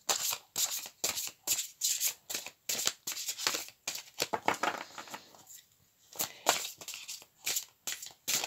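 Numerology cards are shuffled and drawn, making crisp, rhythmic riffling bursts close up, repeating in quick strokes with a brief pause midway.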